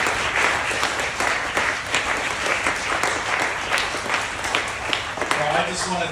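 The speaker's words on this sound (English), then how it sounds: "how about a round of applause for that amazing vision?" A room full of people at a senator's event on lymphoma research funding gives a long, dense round of applause with many overlapping claps that stays level throughout.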